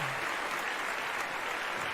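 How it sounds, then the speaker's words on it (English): Steady applause from a crowd after a Christmas stage performance, dense clapping that stays even throughout. "a round of applause for everyone in that"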